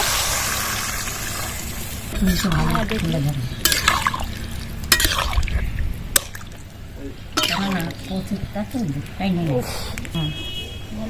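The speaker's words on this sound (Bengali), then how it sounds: "এইবার গাঁটি কুচুর মধ্যে জল দিয়ে দেবো" Water poured into a pot of taro and potato curry, splashing and trickling in short bursts while someone talks over it.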